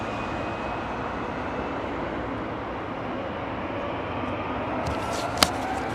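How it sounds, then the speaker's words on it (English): British Airways Boeing 777-300 departing Heathrow, a steady broad roar of jet engines at moderate distance, continuous and even throughout with a brief sharp click near the end. "Look at this beautiful British Airways 777-300"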